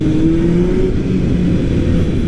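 Vintage motorcycle with a loud aftermarket-style exhaust, a steady, deep engine drone held close and loud with a slight rising pitch.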